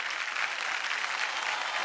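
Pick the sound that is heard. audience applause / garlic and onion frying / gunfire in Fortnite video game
audience applause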